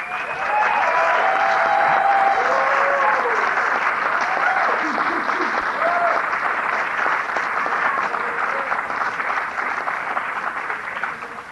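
Large audience applauding at an event, a dense sustained clapping that stays loud for several seconds before slowly tapering, with voices and cheers mixed in.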